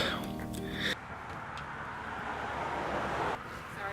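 A loud truck passes an outdoor filming spot, a broad steady rumble and road roar that builds and holds for several seconds.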